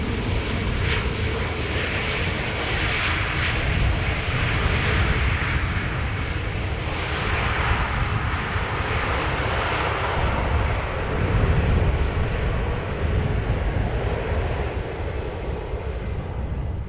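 Airliner landing at Amsterdam Schiphol Airport, its engines a steady loud roar throughout with no voices.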